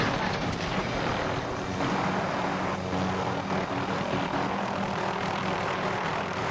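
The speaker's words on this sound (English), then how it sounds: "That's just the chopper doing that noise, not the recording." A continuous helicopter engine drone in Call of Duty: Warzone, with a low rotor throb, steady and moderately loud, with no talking over it.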